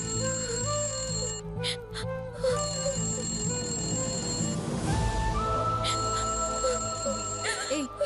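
A phone rings with an incoming-call ringtone, a repeating melodic tone sounding over dramatic background music and a brief voice in a Telugu TV serial scene.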